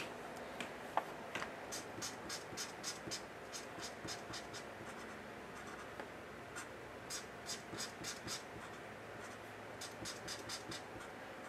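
A blue pen sketches quickly on paper, giving close, faint scratchy strokes in short rhythmic bursts with brief pauses between them and no talking.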